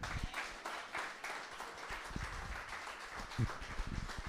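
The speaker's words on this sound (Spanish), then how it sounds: "Dale un aplauso al Señor, hermano." A church congregation breaks into applause, a soft, continuous wash of many hands clapping heard at a distance and fairly faint, with no one speaking over it.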